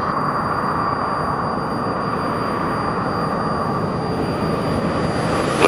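Light aircraft engine roaring steadily at full power through the takeoff roll and liftoff from the runway, a continuous close cockpit drone with no talk.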